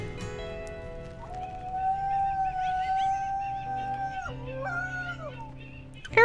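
A wolf in the video game WolfQuest gives a long, clear howl that holds a steady pitch, then dips and wavers before fading, with soft game ambience underneath.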